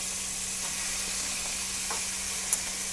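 Broad beans tipped into cooked-down tomatoes in a pan, giving a continuous, even sizzle and hiss with a few faint clicks and no talking.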